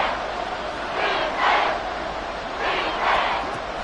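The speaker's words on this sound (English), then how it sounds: "The crowd getting into it as we come up on a big 3rd down." Football stadium crowd swelling with cheers ahead of a big third down, a broad roar that rises in two waves over a steady background din, loud and distant with no clear speech.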